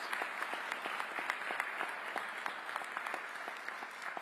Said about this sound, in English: Let's give our young people, the future leaders of now, a round of applause, please.